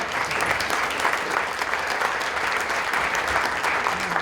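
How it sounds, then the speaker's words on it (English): Steady, dense applause from a lecture audience in a hall, an even wash of clapping that holds at the same level throughout with no voices standing out. "Let's give her a big applause."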